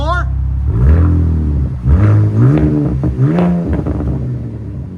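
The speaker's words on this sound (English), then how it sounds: "So that's the Dynomax race bullet, part number 24250." A 2025 RAM RHO with the 3.0L Hurricane inline-six and Dynomax Race Bullet exhaust revs hard in repeated loud, rising bursts. The engine roar sits close and dominant, falling back between pulls.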